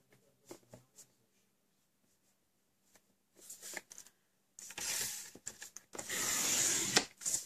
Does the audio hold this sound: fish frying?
no